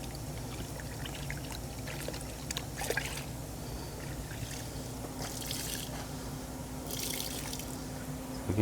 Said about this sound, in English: after rinsing or after dipping it, it lets all that just releases into the bucket.